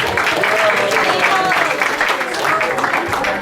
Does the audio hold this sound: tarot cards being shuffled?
no